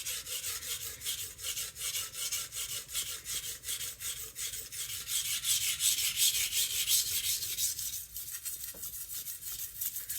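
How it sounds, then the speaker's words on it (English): A knife blade slides back and forth across a coarse 200 grit sharpening stone while its bevels are shaped, making a steady rhythmic rasping scrape, close and continuous with no talking. "blade is sliding on the 200 grit stone"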